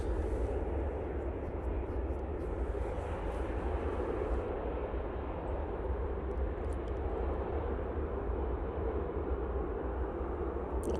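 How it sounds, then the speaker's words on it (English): An Emirates Airbus A380 arrives from Dublin at Manchester Airport, its engines a steady, moderately loud rumble at a distance that holds evenly throughout. "A380 arriving from Dublin now."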